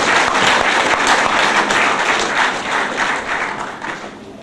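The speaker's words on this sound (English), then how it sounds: "Give yourself a clap, a round of applause." An audience in a hall gives a round of applause, dense and loud clapping from many hands that holds steady and then slowly fades toward the end, with no talk.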